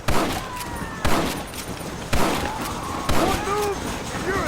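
Gunfire in the video game Red Dead Redemption rings out in four heavy, evenly spaced volleys about a second apart, each with a booming crack and echoing tail over a constant battle din.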